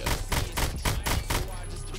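An AN-94 rifle in Roblox Phantom Forces fires a quick run of about six loud, closely spaced shots in steady rhythm, close up, with a short tail after the burst.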